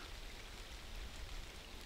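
Steady rain falls at a backcountry canoe campsite in Algonquin during late summer, a continuous even hiss with soft patter close by, heard alone without voices.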